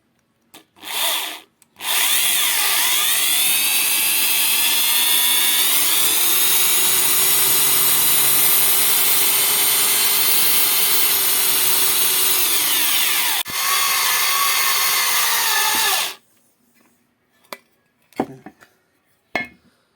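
Power drill boring a hole into a Daewoo Lanos gearbox casing, a loud close sustained whine that rises in pitch as the bit bites, then cuts off, followed by a few clicks and taps.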